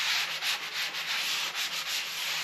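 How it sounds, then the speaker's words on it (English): Light touch-up hand sanding along patched drywall edges, a steady close-up rasping hiss in short repeated strokes with no pauses. "I'm just going to do a little bit of touch-up sanding on the edges here."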